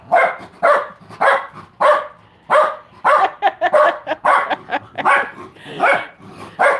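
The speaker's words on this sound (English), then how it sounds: "Now the dog's going to bark." A dog barks repeatedly at close range in a house, a loud, fairly rhythmic run of about a dozen sharp barks with brief gaps between them and no talking.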